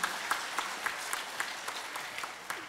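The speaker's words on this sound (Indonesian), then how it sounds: "Kita berikan aplaus buat Pak Denny" Audience applause for speaker Pak Denny at a conference on fighting fraud in a digital ecosystem, steady clapping from a modest crowd with light rhythmic peaks, moderately distant and without talk.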